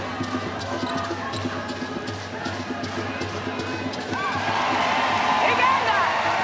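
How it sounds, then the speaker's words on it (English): Crowd noise swells in an indoor arena during a Netball World Cup 2019 placing match between Zimbabwe and Uganda, a steady dense roar with ball bounces that grows louder near the end. "A roar from the crowd."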